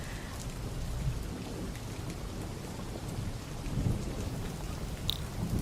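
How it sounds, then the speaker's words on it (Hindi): Heavy rain pours steadily outside with low rumbles of thunder rolling underneath, a constant wash of noise with no voices. "बाहर इतनी बारिश हो रही है ना"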